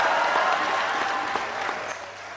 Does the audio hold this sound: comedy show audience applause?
yes